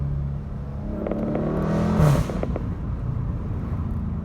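A Dodge Scat Pack accelerates hard using paddle shifters, its engine roaring steadily from inside the cabin with a brief gear change near the midpoint before the drone resumes.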